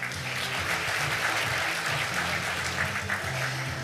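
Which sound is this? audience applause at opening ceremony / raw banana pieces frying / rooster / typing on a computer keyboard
audience applause at opening ceremony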